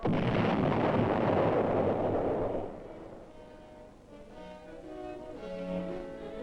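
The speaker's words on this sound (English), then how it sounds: "the 106 millimeter recoilless rifle fires a 37-pound round" A 106 millimeter recoilless rifle firing a 37-pound round produces a heavy, roaring blast that stays loud for a couple of seconds and then decays into a fading rumble.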